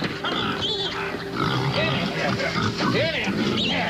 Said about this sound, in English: it takes time to get a sow to accept your pigs, and they got to be fed right now